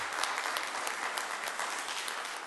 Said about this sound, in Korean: 우리 잠깐 일어나시면 또 박수로 환영하시겠습니다.